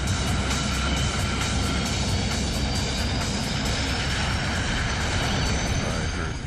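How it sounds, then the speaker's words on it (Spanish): Jet engines of a Pan Am airliner roar to full power, a loud, dense, sustained rumble and whine filling the whole stretch without letup. "Oí cómo aceleraban los motores"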